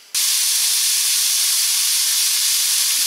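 A 200 gram pack of bacon lardons frying in a pan, a sudden loud, steady sizzling hiss that starts abruptly and holds evenly throughout.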